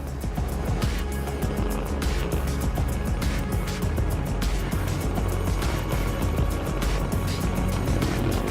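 The three Raptor engines of SpaceX Starship SN15 roar steadily during launch ascent, a loud, dense, continuous rumble with crackling bursts throughout and no pauses.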